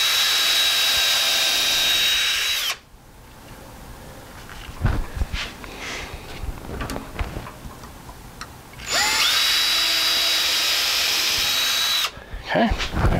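Power drill boring holes into a wooden jig in two long, loud, steady whining bursts, with quieter handling and tool clatter between them.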